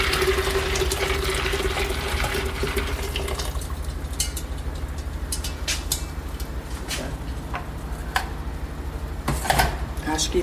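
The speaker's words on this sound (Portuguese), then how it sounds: "tô botando a água aqui para cobrir bem o milho" Water is poured into a pot to cover dried corn for mungunzá, a close, continuous splashing fill that tapers off into clinks and handling noises, with someone talking.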